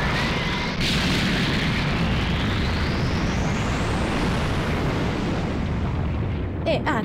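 A long, loud explosion rumbles through a Dragon Ball Z: Kakarot battle during a Majin Buu transformation fight, broadband roar sustained for several seconds and fading at the end, with a game voice faintly mixed in.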